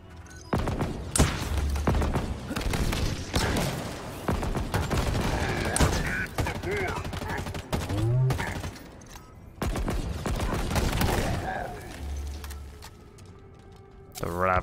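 Ravager energy weapon in Halo Infinite lobbing mortar-like shots during a firefight, repeated loud blasts and booming impacts amid heavy gunfire, with someone talking over the combat.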